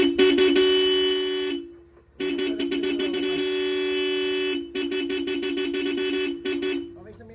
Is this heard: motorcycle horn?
yes